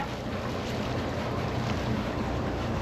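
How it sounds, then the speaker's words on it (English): Boat engines warming up in a harbor at New Buffalo, Michigan, before a run to Hammond, a steady broadband rumble mixed with wind noise across the microphone, constant and loud throughout. "get the engines warmed up, and head on over to Hammond"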